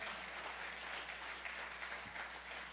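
A church congregation applauds and cheers at a revival service, a steady wash of clapping sustained at even loudness throughout with no talk over it.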